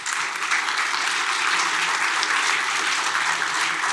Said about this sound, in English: Maybe you can clap.